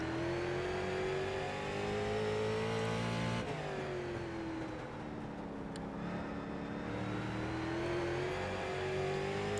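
A street stock race car roars around the Texas 2009 Legends oval in iRacing, its engine holding a loud, sustained drone that dips as the throttle lifts near the midpoint, then climbs back up in pitch, no voices.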